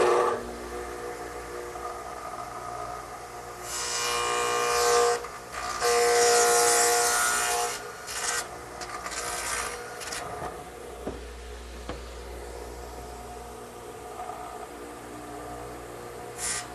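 A radial arm saw with a dado head cutter whines loudly through several cutting passes, its motor rising and dropping between bursts, with quieter running and clunks in between.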